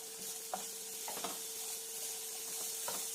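Okra sizzles in a pan while being stirred, a soft constant frying hiss broken by a few light scraping strokes of the spoon, with a faint steady hum in the background.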